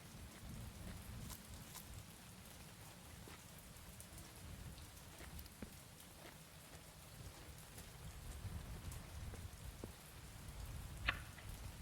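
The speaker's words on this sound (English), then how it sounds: "it's raining." Steady rain hisses across the open world of the game Mon Bazou, with a soft continuous patter throughout and a brief sharper drip-like tick near the end; no one speaks.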